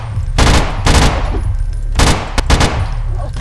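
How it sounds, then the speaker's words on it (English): SMG fired in the video game Grey, with loud close bursts of rapid automatic fire in separate volleys and short gaps between them, alone without talk. "I got me an SMG!"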